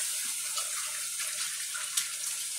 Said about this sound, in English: You go over here and wash your hands.